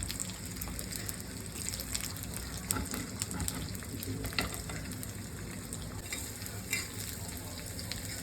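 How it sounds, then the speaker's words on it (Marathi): Garlic, ginger and cloves fry in a pan and are stirred, a steady close sizzle broken by scraping stirs, with no talk. "आता आपण लसूण तळून घेऊ."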